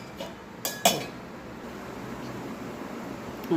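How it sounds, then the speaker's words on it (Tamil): A metal lid is set onto a cooking pot of Tamil buttermilk curry (more kulambu) in a home kitchen, giving a few quick, light clinks and clatters close by, followed by faint background hiss. "இப்போ மூடி போட்டுருவோம்."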